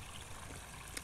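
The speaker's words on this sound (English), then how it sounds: "to get a little bit of a water flow and then some water agitation" Water trickles gently over rocks in a backyard koi pond waterfall, a soft, steady, subtle babble heard faintly and alone.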